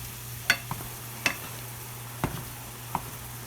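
Ground beef frying on high heat in a pan gives a faint, steady sizzle, broken by a few sharp clicks and scrapes as a utensil stirs the meat.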